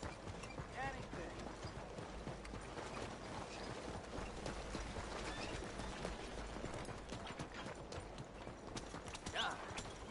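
Horse hooves clop quietly while galloping in the Red Dead Redemption video game, giving a fast, continuous, rhythmic patter over faint game ambience, with occasional soft creaks of tack.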